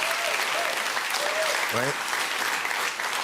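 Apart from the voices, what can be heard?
audience applauding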